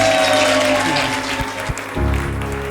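Wedding guests at Farleigh House near Bath applaud, steady clapping heard over a held musical tone and background chatter, with a few louder thumps near the end.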